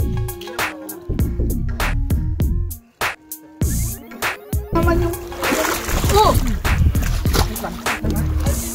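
Swimmers splashing in cold Lindeman Lake near Chilliwack, with repeated sharp splashes and sloshing up close, overlapping with people's voices and laughter.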